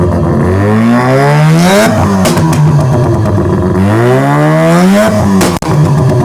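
A rebuilt, freshly tuned Mazda RX-7 rotary engine revs up and down repeatedly, loud and close, rising in pitch then falling in two long sweeps, with a sharp pop near the end.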